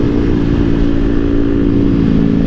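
Group of five motorcycles, including a Honda CBR, Yamaha R3, R15 and a Yamaha 155 classic bike, riding together on the road to Don Benedicto, Negros Occidental; a loud, steady engine drone with wind rumble, heard from aboard one bike.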